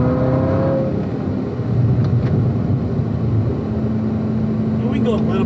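The engine of a 2019 Chevrolet Corvette ZR1 drones steadily on the Spring Mountain track, its pitch dipping and then holding under the throttle, while voices talk over it.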